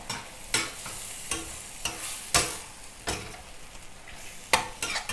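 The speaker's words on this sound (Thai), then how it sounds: "ผัดคลุกเคล้าให้เข้ากันนะคะ" Pork belly red curry with Thai eggplant and plenty of kaffir lime leaves is stir-fried in a pan. A utensil scrapes and clatters about every half second over a soft sizzle, with no talking.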